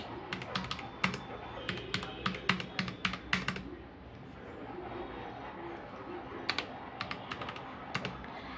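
Data values are keyed into an Excel sheet on a computer keyboard: quick runs of crisp clicks, a short pause, then another burst of taps, close and fairly quiet over a faint room hum.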